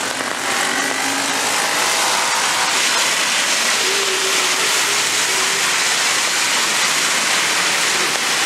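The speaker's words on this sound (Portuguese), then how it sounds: "chegando mais um trem de Osasco" A commuter train from Osasco pulls into a suburban station during rain, its rumble blending into a dense, steady wash of falling rain that stays loud and even throughout, with no talk.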